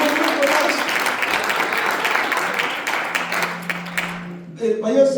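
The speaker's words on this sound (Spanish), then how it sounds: "denle un aplauso a Dios" Church congregation applauding during a Spanish-language sermon, a steady wash of clapping that fades near the end as a voice returns.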